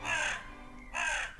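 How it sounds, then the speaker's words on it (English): A crow outdoors gives two harsh caws separated by a short pause. Each call is fairly faint and stands alone with no talking. "there's a crow there"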